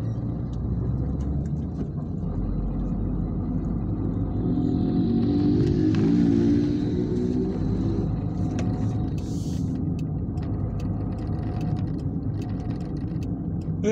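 Steady road traffic of many cars on streets around Atibaia, Brazil, a continuous low engine and tire rumble heard from inside a moving car, with one vehicle swelling louder as it passes midway.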